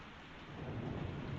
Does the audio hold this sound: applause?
no